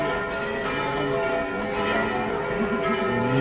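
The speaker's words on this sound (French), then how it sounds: "toutes les églises de Rome sonnent" Church bells across Rome ring out at noon, a dense, sustained wash of overlapping tolls with rich lingering harmonics, steady and fairly loud throughout with no talking.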